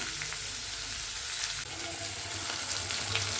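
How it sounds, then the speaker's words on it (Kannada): Onions sizzle steadily in a hot pan for capsicum rice, a close, continuous frying hiss with occasional stirring scrapes and a low hum underneath. "ಈರುಳ್ಳಿ ಚೆನ್ನಾಗಿ ಬೆಂದ್ಕೊಳ್ಳಿ"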